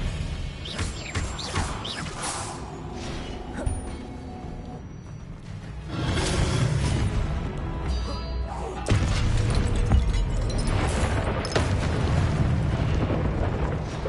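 Booming Confringo spell blasts from a Hogwarts video game, heavy rumbling explosions that come in waves over a loud, dense bed of game effects.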